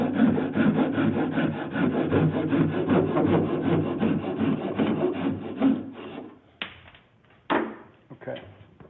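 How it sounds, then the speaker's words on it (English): A hand saw cuts through a thin quarter-inch cedar strip for a strip-built canoe, fast, close rasping strokes in a steady rhythm for about six seconds, then stopping, followed by a couple of isolated scrapes. "And then I'll just finish this cut with the saw."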